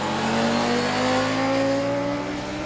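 A Honda CBR600RR supersport motorcycle on a racetrack screams through a sustained high rev, its loud, close engine note rising steadily in pitch.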